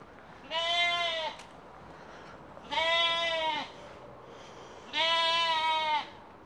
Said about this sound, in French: Bonjour les moutons.